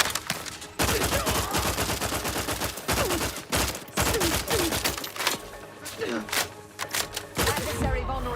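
Rapid, dense gunfire from a shooter in Outer Worlds 2, bursts of automatic shots running almost continuously with brief gaps, loud and close, with a voice speaking over parts of it.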